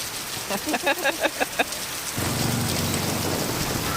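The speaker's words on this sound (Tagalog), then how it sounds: "Napakalakas ng ulan." Heavy rain pours down during a flood in Paranaque, a dense steady hiss that swells in after a short run of rhythmic knocking at the start.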